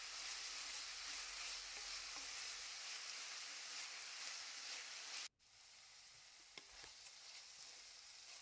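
Tomatoes with half a teaspoon of salt sizzle and fry in a pan, a steady bright crackle that runs on, drops out abruptly for a moment, then resumes a little quieter with a few clicks of stirring.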